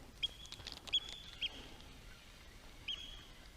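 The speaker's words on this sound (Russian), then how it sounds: "Вон какая-то эта интересная птичка." A bird calls near water where someone is fishing with a lure, giving a few short, sharp, faint cries spaced irregularly over quiet background noise.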